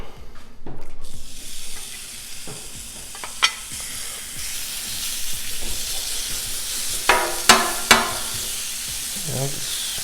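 Thin slices of regular sirloin steak sizzle steadily on a Blackstone griddle, with scattered sharp scrapes and clanks of a spatula against the flat top.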